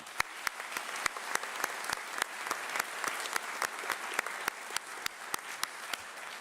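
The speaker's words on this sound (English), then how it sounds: "Let's go ahead and give them a round of applause." An audience at a homecoming distinguished alumni ceremony applauds service members and their families, a thin, steady patter of individual claps at moderate distance, fairly quiet and without voices.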